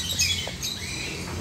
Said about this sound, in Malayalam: സൺകൊണിയറിൻ്റെ അഡൽറ്റ് ആയിട്ടുള്ളൊരു പെയറാണ്.